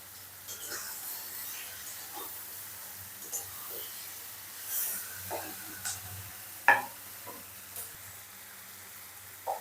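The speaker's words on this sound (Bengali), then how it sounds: "তো আমি আদা রসুনটা দিয়ে আরেকটু ভালো করে কষাবো।" Onion, tomato and potato fry with ginger-garlic paste in a pan, a faint low sizzle broken by scattered scrapes and taps of the stirring spoon, with a soft voice now and then.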